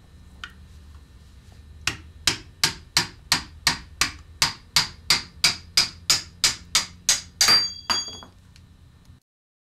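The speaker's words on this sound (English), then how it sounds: "Use a hammer and a flat blade screwdriver to drive the blade out of the handle." Sharp metallic hammer strikes on a flat blade screwdriver, driving a rasp blade out of its handle, ring out in a steady series of about fifteen evenly spaced blows, close and loud, then stop.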